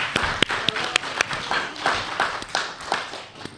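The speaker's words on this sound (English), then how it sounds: "Y'all can clap for that." Scattered hand claps from a small group during a teen podcast recording, a dozen or so sharp uneven claps spread across a few seconds in a quiet room.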